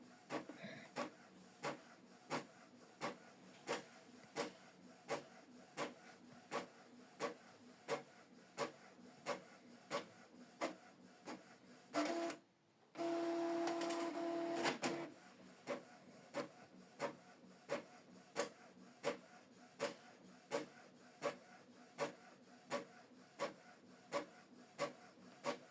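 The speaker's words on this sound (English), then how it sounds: "So this document is printing." A Canon TS4150i inkjet printer prints a document, giving a steady run of regular mechanical clicks and whirs about every half second, with a brief louder feed burst in the middle, close and moderately quiet with no talk.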